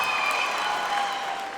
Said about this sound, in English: Single ladies in the house, clap.